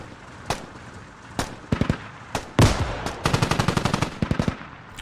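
Gunfire from a suppression squad in the video game Squad: scattered single shots give way to rapid bursts of automatic fire, loud and close, with no talking.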